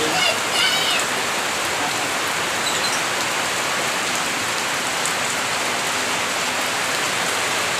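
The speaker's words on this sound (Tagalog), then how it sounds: "Napakalakas ng ulan, oh." Heavy rain pours down in Bicol, a dense, continuous hiss of drops hitting surfaces, loud and close and steady throughout, with a brief faint chirp near the start.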